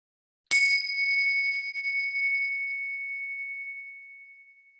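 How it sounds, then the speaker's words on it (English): A meditation bell struck once rings out clear and bright, its pure tones sustaining and slowly fading toward silence over several seconds, alone in a quiet room. "follow the sound of the bell from the moment it begins all the way until it dissolves into silence"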